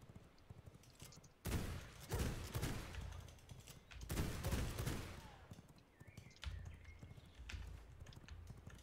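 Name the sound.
shotgun fire in a video game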